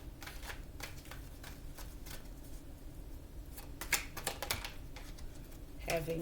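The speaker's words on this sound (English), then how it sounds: "I'm having trouble getting started shuffling these cards." A deck of tarot cards is shuffled by hand at close range, with irregular bursts of crisp, clicking riffles and a few louder slaps against a quiet background.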